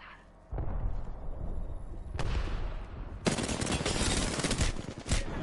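Rapid automatic gunfire rattles in dense, loud bursts during an Apex Legends match, with sharp impacts and cracks piling up after a short quiet opening.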